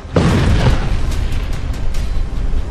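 A loud, deep explosion from an Azerbaijani strike in Nagorno-Karabakh booms out and rumbles on with a long, heavy roar that fills the whole stretch.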